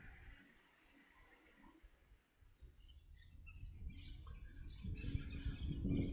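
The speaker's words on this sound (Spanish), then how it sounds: "¿Escuchan los pájaros cómo nos están acompañando?" Faint birds chirp sporadically in a forest, their high calls scattered over a steady low rumble of wind or moving air that grows louder toward the end.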